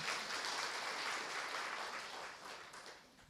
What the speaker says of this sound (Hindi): भाई ताली तो बजाओ जरा